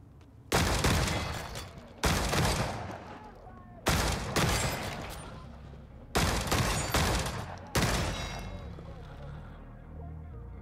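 Five heavy, booming gunshots in the video game The Forever Winter, spaced a second or two apart, each with a long decaying tail; a voice can be heard talking between them.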